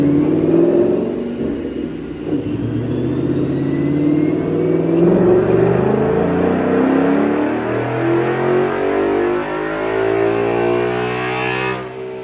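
A naturally aspirated Ford Mustang GT S550 runs hard on a dyno, its loud engine note climbing steadily in pitch through the rev range toward 7,500 RPM, close and uninterrupted, then easing off at the end; no talking.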